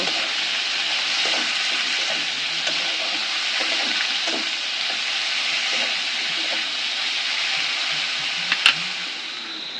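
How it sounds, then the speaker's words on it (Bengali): Continuous sizzling and hiss of vegetables, including carrots, frying in a pan for chicken chow mein, with occasional soft scrapes and knocks of stirring, one sharper clink near the end. "ভালো করে নেড়ে চেড়ে নেব"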